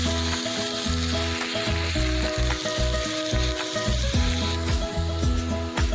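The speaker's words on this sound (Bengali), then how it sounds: "পেঁয়াজটা একটু লাল লাল করে ভাজা করে নিতে হবে" Steady sizzling of onions frying in hot oil, loud and continuous, with background music playing over it.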